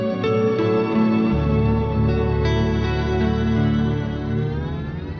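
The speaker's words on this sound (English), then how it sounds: "So the Astral Destiny is an octave reverb pedal with 8 different modes" EarthQuaker Devices Astral Destiny octave reverb pedal producing a lush, sustained modulated octave reverb wash, loud and continuous with shimmering upper harmonics and long decaying tails, no voices.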